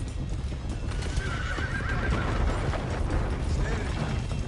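Horses gallop with riders aboard, a dense steady clatter of hooves with whinnies rising above it, loud and close throughout, with a faint sense of voices in the mix.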